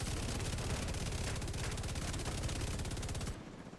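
A GR9 light machine gun in The Division 2 fires a loud, continuous high-rate burst of rapid shots lasting over three seconds before cutting off.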